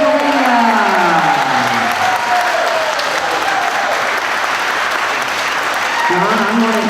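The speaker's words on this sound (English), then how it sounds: "So everybody get ready for a huge round of applause." Crowd at a Corvette giveaway grand prize award ceremony bursts into loud, sustained applause with some cheering, a dense steady wash of clapping while a voice talks over it near the start and again at the end.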